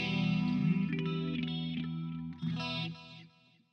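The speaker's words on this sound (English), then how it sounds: "I always have to have a phase shifter." Electric guitar played through a phase shifter effect on a Boss GT-1000 processor, a few sustained chords and notes with a swirling, sweeping tone, fairly quiet and close, trailing off at the end.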